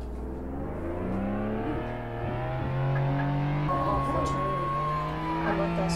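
A vehicle accelerating in the video game Flashing Lights, a steady engine drone rising in pitch through the gears with harmonic whine, close and continuous, while a person talks over it.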